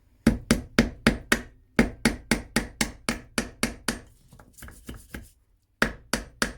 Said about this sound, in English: I used the hammer just to straighten them up as well